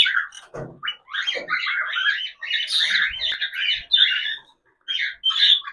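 Pet budgerigars chatter excitedly at feeding time, a close flock of rapid warbling, squawking calls in bursts with short pauses between them.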